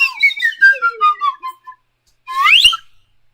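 A slide whistle plays a series of short gliding tones sliding downward in pitch, then after a brief silence gives one quick rising swoop, loud and close with no talking.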